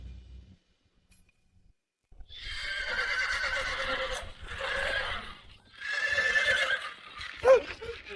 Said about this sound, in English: the horse seems to have gone mad.